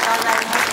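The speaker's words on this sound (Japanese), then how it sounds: "最後までどうぞお見送りの拍手をお願いいたします。" A festival audience at the Nobeoka Daishi festival gives farewell applause after a Yamaga lantern dance performance, a brief loud burst of crowd clapping with voices mixed in.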